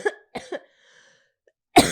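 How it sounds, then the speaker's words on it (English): Two close, dry coughs straight into a microphone, a short pause, then a louder, harsher cough-like burst right on the mic, with no talking. "You like when I cough into the microphone?"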